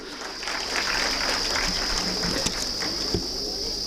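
At a school annual function, an audience applauds the committee members with steady clapping that swells and holds. A few sharper individual claps stand out against a constant high-pitched hiss from the hall's sound system.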